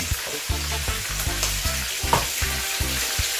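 Mackerel fish frying in a pan of hot oil, crackling and sizzling in quick, closely spaced bursts at close range, with no voices over it.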